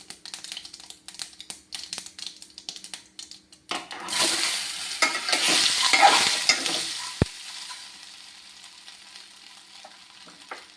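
Small mini dumplings tossed into a hot pan and stirred, heard first as clattering stirring, then a loud surge of close sizzling with scraping that fades to a gentler fry.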